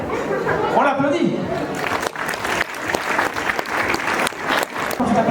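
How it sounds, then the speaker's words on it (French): A crowd at a Halloween event claps for a colorful costume, the applause running steadily under lively chatter and voices, with a few louder claps standing out. "On l'applaudit."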